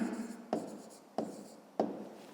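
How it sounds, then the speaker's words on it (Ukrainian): A pen scratches out an answer on paper in a fifth-grade maths exercise, with three or four quiet strokes, each a sharp onset fading away, close and faint with no talk. "Ну, а тепер записуємо відповідь."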